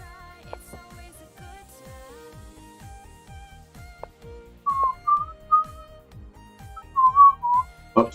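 A person whistles a song melody in short tonal phrases, growing louder toward the end, over a steady rhythmic ticking background beat during a casual chess stream.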